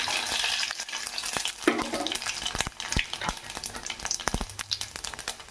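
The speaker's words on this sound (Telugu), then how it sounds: "బాగా ఫ్రై చేసుకుందాం." Chana dal, mustard seeds and cumin seeds fry in a couple of spoons of hot oil, crackling and popping sharply, while a spoon scrapes and stirs the pan now and then.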